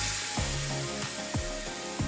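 Plantain fries in hot grease with a steady, dense sizzle and crackle close by, broken by soft rhythmic scrapes or stirs roughly every half second.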